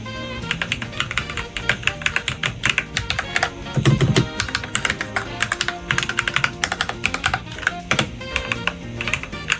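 Rapid, steady clacking of keys on a 75% mechanical keyboard, close and crisp, with no voices.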